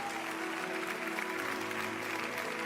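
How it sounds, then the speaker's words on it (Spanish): Church congregation applauding during a sermon, a brief burst of clapping blended with sustained tonal music or organ-like notes underneath, moderately quiet and distant. "Vamos a darle un fuerte aplauso al Señor el día de hoy."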